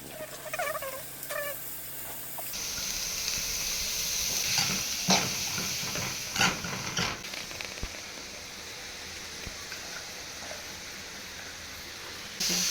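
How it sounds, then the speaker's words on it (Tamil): Masala spices for street-style mushroom momos crackle and sizzle in hot oil while tempering, a steady hissing fry with scattered pops and sharper bursts partway through. "மோமோஸ் ரெடி பண்ணுறதுக்கு மசாலா வந்து தாளிக்கணும்."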